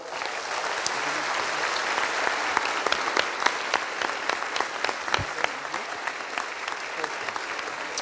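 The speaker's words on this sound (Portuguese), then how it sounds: "Vamos aplaudir, bora?" Sustained crowd applause at a church youth service, a dense, even clatter of many hands holding steady with sharper individual claps standing out toward the end.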